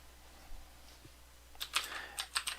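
Quick, light keystroke clusters on a computer keyboard as a folder name is typed, starting after a quiet pause and clattering in short bursts near the end.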